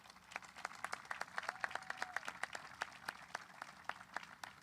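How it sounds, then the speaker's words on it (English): Graduates at Del Campo High School's 2021 graduation applaud parents and teachers: a crowd's scattered hand claps, moderately distant and fairly sparse, continue steadily for several seconds with no talking over them. "can we give them a round of applause really quick?"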